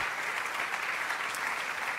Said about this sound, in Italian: quindi gli facciamo anche un applauso di congratulazioni per essere diventati nuovamente genitori.